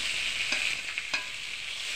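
Colocasia greens frying in a pan give a steady, hissing sizzle, with two or three quick stirring scrapes near the middle of a short stretch and no voices.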